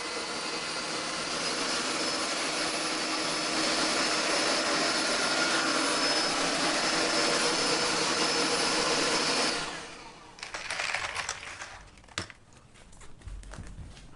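A Philips SpeedPro Max cordless vacuum cleaner running at level 2 gives a loud, steady, close whoosh, then cuts off near the end, leaving scattered clicks and handling noise.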